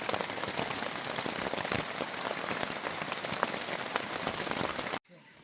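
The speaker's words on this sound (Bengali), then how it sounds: "এই ভোর 5:30 এখন প্রবল বৃষ্টি শুরু হয়েছে। আপনারা বৃষ্টির শব্দ শুনতে পাচ্ছেন" Heavy dawn rain drums on a tent in a dense, steady roar of close patter for about five seconds, then stops abruptly.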